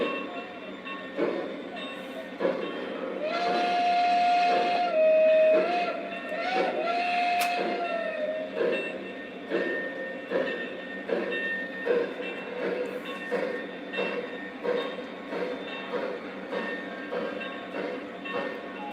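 Lionel and MTH model trains run on a home layout, with a steady rolling rumble and clicking over track joints, a steam whistle sounding in short tones early on, while someone talks over the running trains.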